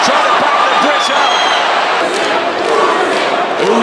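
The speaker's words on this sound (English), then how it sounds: "Usyk, the crowd are chanting the IQ of the Ukrainian wizard" A loud, packed arena crowd roars and chants at a boxing match in a video game, a constant swelling wall of voices with a few sharp thuds.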